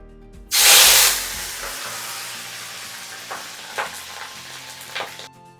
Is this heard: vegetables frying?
yes